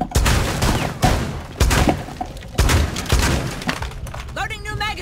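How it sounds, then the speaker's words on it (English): Gunfire rips through a wall during a Rainbow Six Siege team deathmatch on the Yacht map, a run of loud, close shots with breaking debris. Talk runs underneath, and the firing fades near the end. "I'm gonna shoot through the wall"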